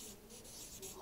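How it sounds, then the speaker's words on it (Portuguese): A green pen scratches and squeaks across a board in a classroom lesson, faint short strokes in a quiet room. "Eu vou escrever aqui com a caneta verde."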